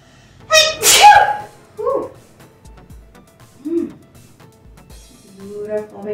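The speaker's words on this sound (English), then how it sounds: "Just sneeze." A single loud sneeze bursts out near the mic during a home ab workout, followed by a couple of short voiced cries and brief murmurs.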